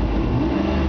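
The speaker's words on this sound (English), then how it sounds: "it's got a good aggressive sounding exhaust" A 1990 Ford Mustang LX 5.0 with an aggressive exhaust, caught in a brief, loud, close burst of rumbling engine and exhaust noise under a second long.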